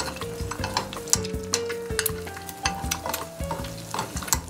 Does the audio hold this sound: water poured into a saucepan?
no